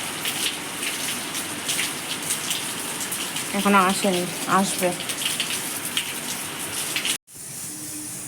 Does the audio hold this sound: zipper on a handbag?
no